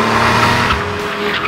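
A Porsche 911 Carrera S engine revs with a steady, rich mechanical tone that rises and holds loudly over the road noise, with no voices heard.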